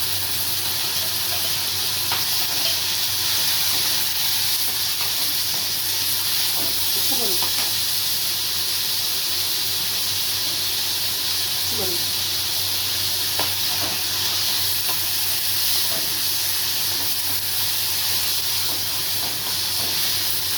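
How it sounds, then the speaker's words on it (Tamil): Tomatoes sautéing with onions in a pan for a pepper bitter gourd stir-fry give a steady, loud hiss and sizzle with occasional faint scraping of a stirring spoon, continuous throughout. "கொஞ்சம் தக்காளி வதங்கும். தக்காளி கொஞ்சம் வதங்கி வைப்போம்."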